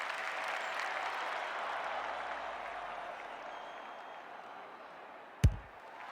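Crowd applause in the AFL 26 Australian football video game, a broad, steady roar of clapping and cheering from a stadium crowd that slowly fades, ending with a sharp thump near the close.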